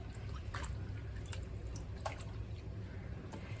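Prawns being rinsed by hand in fresh water for a homemade prawn biryani, with soft splashes and drips in a few quick bursts, close and quiet.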